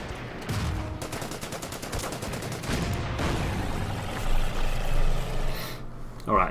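An MG foxhole fires a machine gun in the Order of Battle wartime strategy game, with rapid rattling bursts near the start followed by rumbling battle noise and a few louder blasts.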